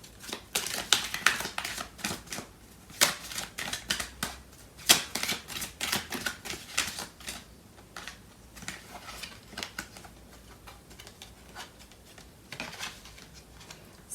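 Tarot cards shuffled by hand during a love reading, a quick run of crisp papery riffles and slaps in irregular bursts, fairly close and alone with no talking.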